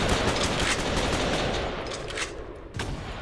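A minigun in the video game War Simulator fires a loud, continuous stream of rapid rounds that blur into a dense roar and taper slightly toward the end.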